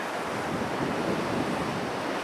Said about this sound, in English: Wind is absolutely cranking, but there's some solid waves coming through.